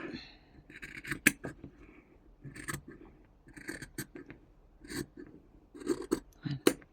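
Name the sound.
cutting fabric with scissors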